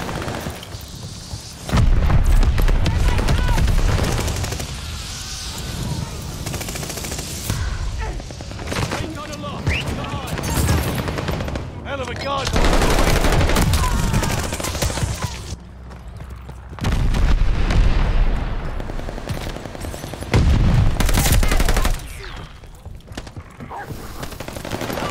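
Gunfire bursts in the online shooter Call of Duty: Vanguard, loud rapid volleys with booming impacts in several clusters, mixed with game action and a player talking over it.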